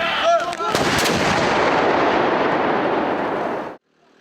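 A 105mm towed howitzer fires a live round during a military firing drill: a few sharp cracks, then a loud, sustained blast and rumble that rolls on for several seconds before cutting off.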